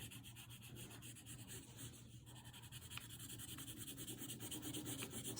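A pencil shades an apple drawing on paper with continuous soft, scratchy rubbing strokes, quiet and close, with no voices.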